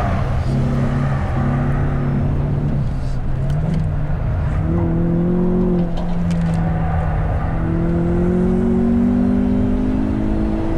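A rally car, either a Mitsubishi Lancer Evo IX or a Renault Clio RS R27 F1, runs a timed lap with a loud, close engine note that climbs and falls through the gears, rising steadily toward the end.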